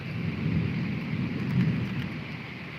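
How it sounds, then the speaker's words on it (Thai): Steady heavy rain pours down in Maha Sarakham, Thailand, with a low rumble of thunder swelling beneath it, continuous and enveloping. "โอ้ยฝนสาด"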